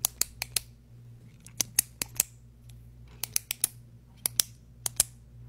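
A pen in an ASMR setting makes a run of sharp, close clicks in small irregular bursts against a quiet background with a faint low hum.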